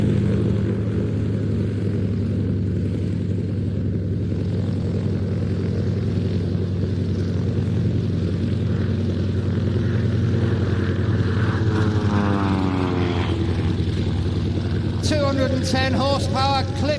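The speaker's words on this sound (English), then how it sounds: "Coming in from your left, you saw him take off earlier, Patrick Wilson in the Titan Extreme Decathlon" A clipped-wing Titan Extreme Decathlon aerobatic plane of 210 horsepower hums steadily at an airshow, its engine tone rising and falling with the manoeuvres while an announcer talks over it.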